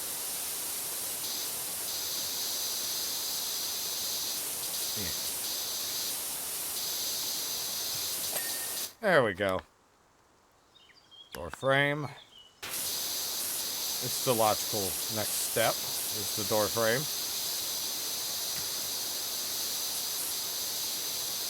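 In Powerwash Simulator, a pressure washer blasts rust off a forest cottage, giving a steady broadband hiss that cuts out briefly mid-way, while someone talks over the spray.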